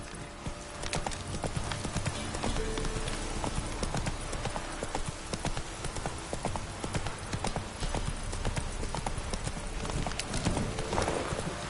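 A horse galloping in The Witcher 3 video game, rapid continuous hoofbeats close and steady throughout, with a brief whinny near the end and no talking.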